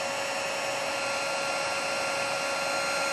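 Heat gun melting embossing powder on watercolor paper for a Stampin' Up! card, a loud steady blowing roar that runs unbroken from start to finish.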